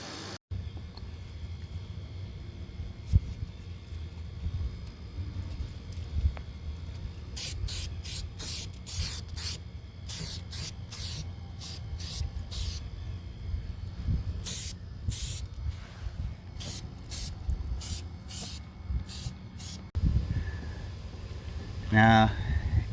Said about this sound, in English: I'm gonna get some rust converter spray all the way along here